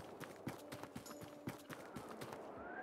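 Horses clip-clopping in the video game Tavern Simulator, a brisk steady run of hoofbeats at close range with a faint tonal ambience behind, continuing through the whole stretch.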